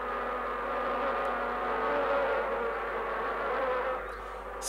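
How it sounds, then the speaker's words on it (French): A cartoon bee buzzes in a forest setting, a continuous, moderately close droning hum that swells slightly in the middle and fades near the end. "Bonjour, ma sœur l'abeille. Comment vas-tu?"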